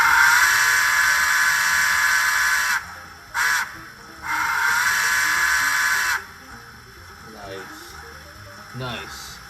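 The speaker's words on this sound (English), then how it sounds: "The whistle is probably by far my favorite so far." Long, loud, steady blasts from the whistle of an N scale NYC Hudson model steam locomotive's sound system, sounding twice with a brief toot between, then fading to quieter trailing sounds.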